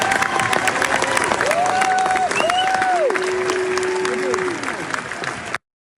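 A small audience at a shareholder meeting keeps up steady applause while a voice talks over it, before the sound cuts off abruptly.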